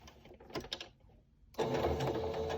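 Serger sewing machine stitching a cloth face mask, starting after a few soft handling clicks with a loud, steady, fast mechanical whir close by, running continuously to the end without speech.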